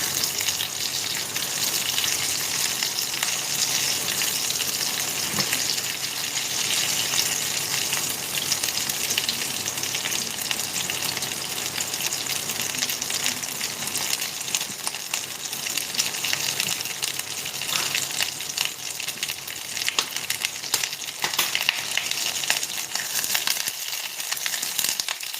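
Ridge gourd frying in a pan on an induction cooker at full heat, a steady dense sizzle that runs loud and unbroken throughout with occasional stirring scrapes and no talking.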